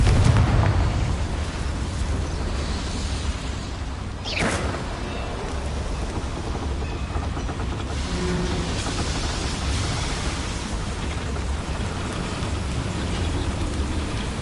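A Confringo fire spell explodes in the video game Hogwarts Legacy: a loud, dense blast of roaring, crackling noise that opens with a heavy thump and keeps rumbling throughout, with a quick whooshing sweep partway through.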